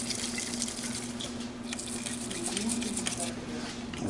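Water from a tap runs steadily over parts of an N2 cold brew coffee unit being rinsed in a sink, with a continuous close splashing hiss that stays fairly even throughout.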